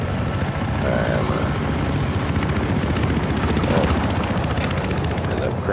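Helicopter flying in Battlefield Hardline, a loud continuous rotor roar and engine drone that holds steady throughout with faint game noise underneath.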